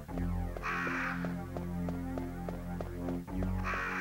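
In Resident Evil 1, harsh crow caws sound twice, once near the start and again at the end, over a steady low droning hum with a faint repeating tick, no voices.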